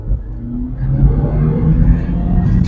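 A 2025 Haval Jolion Pro SUV's engine revs up as the driver accelerates, a loud rising rumble and whir heard from inside the cabin, steady and building across the run.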